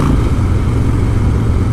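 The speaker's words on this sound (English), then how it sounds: "That stage one exhaust has just got such a good note to it." A 2016 Harley-Davidson Breakout with a 1690 engine and stage one exhaust rumbles steadily up close, a loud, continuous deep engine note with no break.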